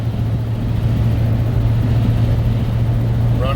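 A 1985 Ford F350 truck's engine runs steadily while driving, a loud, close, low droning hum with a constant pitch and road rumble, heard from inside the cab.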